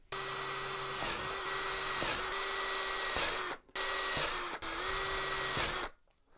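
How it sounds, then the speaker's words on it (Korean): A small power drill bores ventilation holes in a plastic case for a charging circuit, a steady whining motor running in three long bursts with brief pauses between them, close and loud. "그래서 그 열을 배출할 수 있는 구멍을 이쪽으로 송송송송 양쪽으로 뚫어 주도록 하겠습니다."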